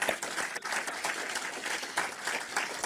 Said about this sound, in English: How about a big round of applause for this massive feat?